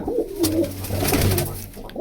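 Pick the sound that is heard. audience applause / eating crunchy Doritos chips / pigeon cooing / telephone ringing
pigeon cooing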